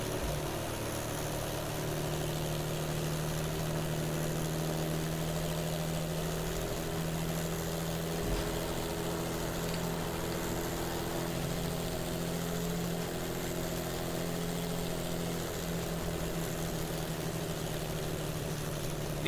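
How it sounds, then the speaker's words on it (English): A Hornet piston aero engine drives a propeller fighter in Kerbal Space Program with BD Armory combat, giving a steady, continuous droning hum with a stable pitch throughout and no talking. "Hornet piston aero engine. I do like the noise it's making, especially sort of as it makes those turns."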